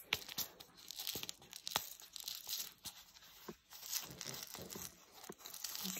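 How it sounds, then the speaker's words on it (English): Adhesive tape being wrapped around a plastic egg to make a homemade egg shaker gives close, repeated ripping and crinkling bursts that rise and fall irregularly, with no talking. "I'm just gonna wrap that tape around"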